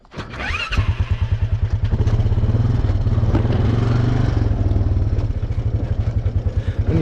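A farm vehicle engine cranks and catches, then settles into a loud, steady, rhythmic chugging idle close to the microphone.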